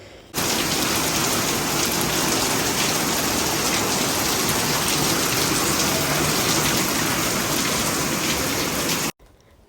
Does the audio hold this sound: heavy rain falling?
yes